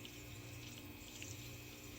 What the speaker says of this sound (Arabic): عندي هنا مية باردة من الكولر من الثلاجة، شايفين؟ راح انقع فيها البرغل